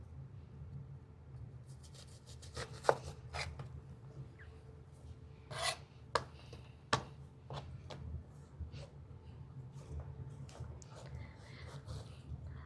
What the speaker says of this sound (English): Make sure you take your time when cutting an onion.